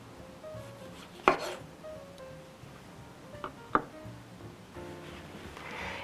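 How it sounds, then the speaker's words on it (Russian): A knife slices rounds of tomato on a board, giving two or three sharp, distinct cuts with quiet kitchen ambience in between. "Отрежу пару кружочков помидора"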